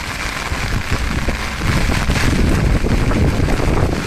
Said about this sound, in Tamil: சரியான காற்று மழையுந்தாங்க